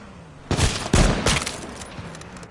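Gunfire in the video game H1Z1: a couple of sharp, loud shots close together, then a further quieter burst, each with a short echoing tail, over low background hum.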